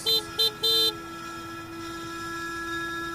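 A horn honks three times in quick succession, two short blasts and a longer one, followed by a steady hum of traffic or engine noise.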